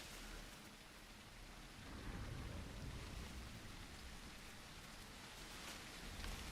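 Steady rain falls in the dinosaur survival game The Isle Evrima, a dense broadband hiss that swells slightly partway through with low rumbling underneath, continuous and fairly quiet with no voices.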